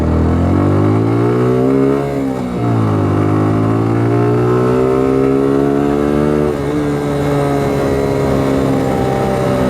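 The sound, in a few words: Suzuki Gixxer SF motorcycle engine braking and accelerating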